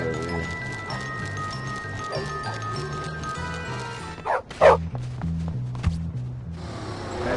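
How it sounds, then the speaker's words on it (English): Dog barking in the Bully video game on PS4, a run of repeated yapping barks over game music, ending in a louder burst of sharp barks and clatter, no talk. "That dog better chill."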